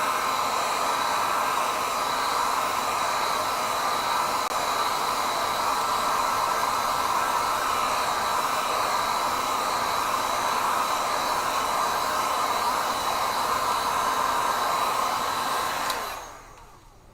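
A hair dryer blows steadily over wet gouache paint dots on a folk-art painting, making a loud continuous whooshing hum that runs alone for most of the clip and then cuts off near the end.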